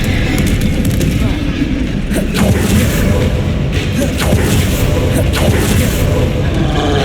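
Rapid spell-casting blasts in Hogwarts Legacy, a string of loud booming impacts and crackling bursts over a constant rumbling din of combat, with several sharp hits spaced a second or so apart.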